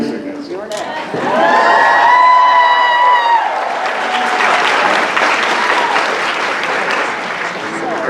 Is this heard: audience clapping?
yes